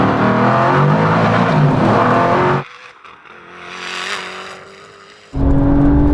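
A Koenigsegg, Audi TT and Porsche 911 Turbo S accelerating hard in a drag race, heard as a loud engine roar that cuts out abruptly, drops to a distant rising whine, then returns loud.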